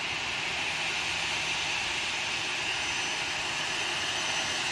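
A Ryanair jet arriving at Manchester Airport gives a constant broad engine roar, loud and unchanging throughout with no talk.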